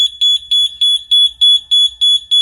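A smoke alarm beeps repeatedly in a steady, even rhythm, about eight shrill high-pitched chirps in quick succession, loud and close with nothing else around.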